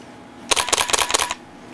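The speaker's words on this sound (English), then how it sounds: "Like with a digital SLR, as soon as you press that shutter," A digital SLR camera shutter fires in a quick burst of sharp mechanical clicks, several close snaps packed into about a second, near and fairly loud against a quiet room.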